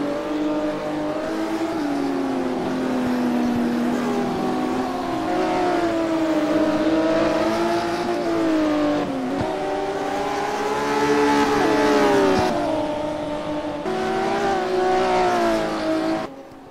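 Classic Porsche Cup race cars in a sim racing game, engines revving loud and steady throughout, pitch rising and falling through gear changes and corners, with tire squeal mixed in and no talking.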